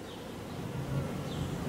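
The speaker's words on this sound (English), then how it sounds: "And then I noticed there was a bee there fanning" Honeybees fanning at the entrance of a new hive after a swarm moved in, a soft continuous low buzzing hum at a faint level, steady throughout.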